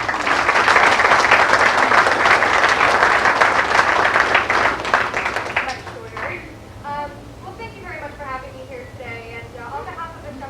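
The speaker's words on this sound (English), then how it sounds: "Please give her a round of applause." A room full of people at a June 2009 graduation ceremony gives sustained, dense applause for about six seconds, then it fades out as a speaker begins talking.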